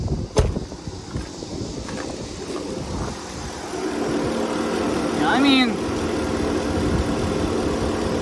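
A car engine idles steadily in the background, a smooth continuous hum with a brief rise partway through, while someone talks nearby.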